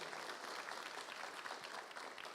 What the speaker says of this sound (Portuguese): Uma salva de palmas para os homens de Blumenau.